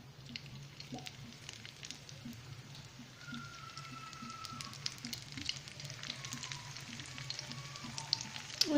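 Briouates frying in hot oil give a steady, moderately quiet crackle and sizzle with scattered pops, growing slightly busier toward the end.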